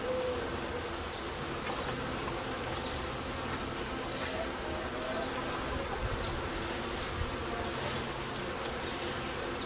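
Honeybees buzz at a top bar hive, a close, continuous droning hum with many overlapping wingbeats, fairly faint but steady, with a few brief clicks over the swarm.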